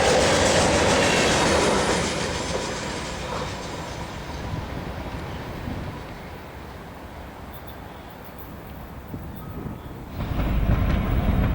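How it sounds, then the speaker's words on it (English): A Santa Fe eastbound freight led by an SD45U locomotive rolls past a siding and under a cantilever signal at Glen Fraser, a loud steady rumble that eases off mid-pass and then swells again near the end. "this eastbound led by an SD45U rolls past the siding and under the cantilever"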